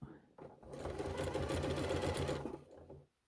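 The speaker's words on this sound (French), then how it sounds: "Et on va coudre à 1 cm. On coud." A sewing machine stitches a fabric tube at a 1 cm seam allowance, a steady close whirring run of about two seconds after a brief start, then stopping.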